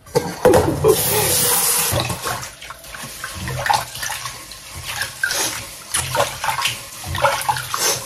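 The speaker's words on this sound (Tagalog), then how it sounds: "Hugasan muna natin yung rice." Rice is washed under running water while cooking homemade pork sisig, a steady splashing and swishing of water close by, with louder gushes and stirring sounds throughout.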